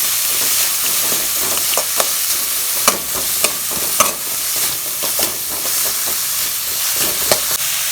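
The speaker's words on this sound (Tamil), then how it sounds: "எல்லாம் போட்டு நல்லா வதக்கிக்கலாம்." Garlic and tomatoes sauté in hot oil for a moringa flower kootu, giving a steady sizzle and hiss broken by repeated sharp clinks and scrapes of stirring, with no voices.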